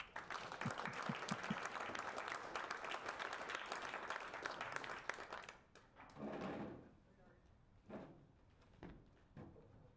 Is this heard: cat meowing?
no